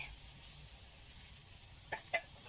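Ground meat frying in oil in a pan for homemade spaghetti sauce, a steady soft sizzle throughout with a couple of faint clinks or stirring scrapes near the end.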